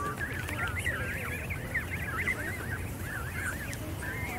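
Canada geese and goslings at Prince's Island in Calgary honk close by in a steady, overlapping chorus of nasal calls with no voices.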